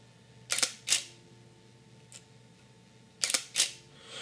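A Nikon D5300 DSLR set to quiet shutter mode fires twice in two separate pairs, each a soft double click of shutter and mirror, close up in a quiet room.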